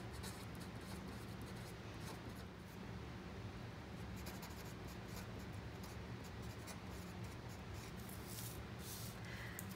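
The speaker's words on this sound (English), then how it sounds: "So now I'm just gonna write a few things I need to do." Pen writing a short to-do list in a paper Happy Planner, a steady soft scratching close by with continuous low background hum throughout, no talking.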